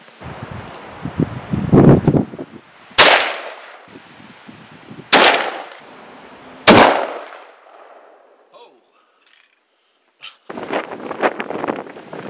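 Three sharp, loud rifle reports from .405 Winchester bullet testing ring out outdoors, evenly spaced a couple of seconds apart, each trailing off, with gusty wind noise and rustling between them.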